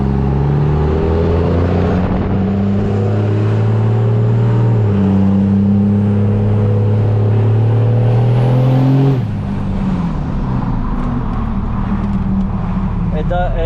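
Cummins diesel truck with a new ATS Aurora 3000 turbo, driving with a steady engine drone heard from inside the cab, pitch rising as it accelerates, then dropping after a shift.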